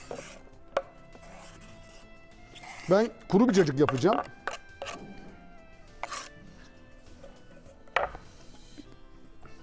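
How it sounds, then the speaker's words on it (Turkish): A knife taps against a cutting board in a brief burst of quick chops through small cucumbers while a person talks, with light kitchen clinks around it. "İki tane ufak Çengelköy salatalığı daha doğruyorum."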